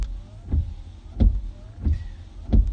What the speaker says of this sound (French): Pour faire fonctionner les essuie-glaces à l'avant sur la position la plus rapide